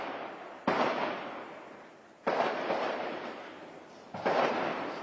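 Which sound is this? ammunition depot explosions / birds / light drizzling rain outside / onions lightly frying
ammunition depot explosions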